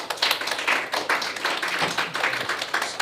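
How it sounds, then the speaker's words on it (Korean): An audience at a lecture on drug problems gives a short round of hand claps, individual claps audible in an uneven rhythm, moderately loud and without talk. "계속 이렇게 전진하시는 우리 경철 선생님한테 박수 한번 치겠습니다."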